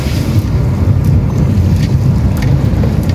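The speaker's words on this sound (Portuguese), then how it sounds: "E a água descendo aqui." Water gushes from a burst Saneago water main in Aparecida de Goiânia, running down toward a creek as a steady, loud, broad rushing roar with no break and no talking.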